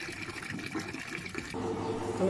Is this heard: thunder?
no